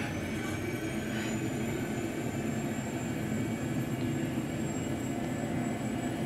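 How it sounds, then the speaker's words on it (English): A small jet taking off in the video game Just Cause 2 gives a loud, steady engine roar that holds constant throughout, close and unbroken, with no speech. "I called in a little jet, and you can literally take off from anywhere as long as you have space"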